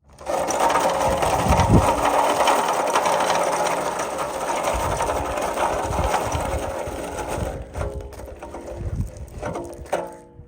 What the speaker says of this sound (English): see how it does on the gravel driveway rolling over to the JKU